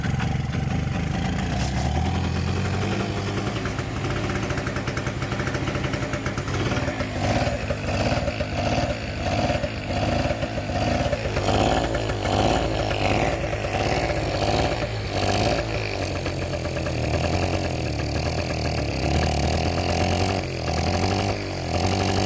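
A two-stroke generator engine runs roughly and steadily throughout, loud and close, with an uneven throbbing rhythm and no voices.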